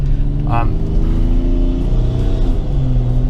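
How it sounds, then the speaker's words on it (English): A turbocharged Subaru engine pulls uphill at nearly wide-open throttle, its loud, rising drone climbing in pitch as the car builds speed, while someone talks over it. "now I'm accelerating up this hill. I'm pushing, almost wide open"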